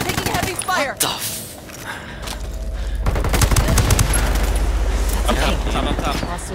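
Heavy gunfire rattles in the online shooter Ghost War, bursts of rapid automatic shots with a low rumbling boom underneath, loud and close, mixed with shouted voices.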